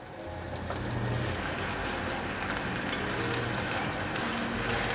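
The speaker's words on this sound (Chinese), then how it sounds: "接着把杏鲍菇放进来炸。" Pieces of king oyster mushroom coated in potato starch deep-fry in hot oil, giving off a steady, even sizzle that continues throughout at moderate loudness.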